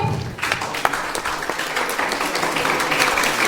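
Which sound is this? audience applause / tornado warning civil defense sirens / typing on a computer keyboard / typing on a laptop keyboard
audience applause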